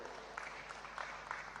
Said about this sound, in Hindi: जोरदार ताली घनश्याम कुमार जी के लिए